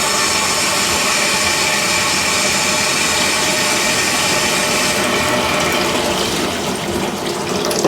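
Water gushes from a repaired tap in a steady, loud, close rush that hardly varies, easing slightly near the end.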